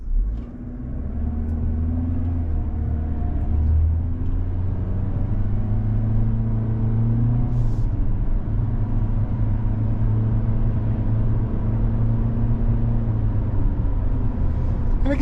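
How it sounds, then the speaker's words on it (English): A 2024 Toyota Corolla Cross XLE AWD with a new engine and CVT accelerates from a stop, its steady engine drone rising and dropping in pitch through simulated gear steps, with low road rumble throughout. "You have those simulated gears that the CVT is clicking off to keep the revs down."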